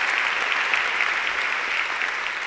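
An audience at a conference applauds, a dense, steady wash of many hands clapping throughout, fairly loud and without voices.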